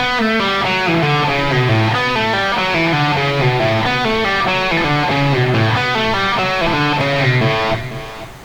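Distorted electric guitar plays a slowed pull-off riff from a rock song, repeating quick descending note runs, steady and loud, ending with a held note that fades.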